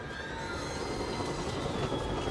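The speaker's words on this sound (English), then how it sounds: "This is the train they mentioned earlier." Passenger train rolling along rails in the video game Alan Wake, a steady dense rumble with faint squealing of wheels, continuous and close throughout with no voices.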